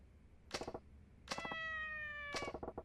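Man meowing like a cat in the Yakuza 4 video game, three separate imitation meows, the middle one drawn out, close over quiet background sound.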